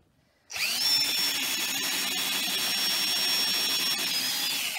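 A power drill starts abruptly and bores steadily into wood for a homemade mace, its high motor whine loud and continuous with slight strain under pressure before cutting off.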